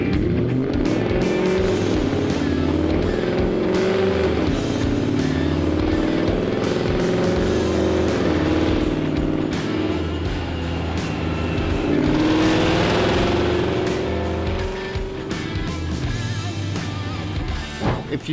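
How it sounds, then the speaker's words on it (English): A Jaguar S-Type, remapped and fitted with 200-cell catalytic converters and an upper pulley, runs strapped to a dyno, its engine droning loud and steady with rising and falling revs throughout. "let's get it strapped down for the final run on the dyno."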